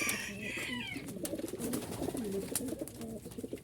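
Young domestic pigeons in a loft coo in low, soft, repeated phrases with faint flutters and rustling, fairly close and continuous, with no talking.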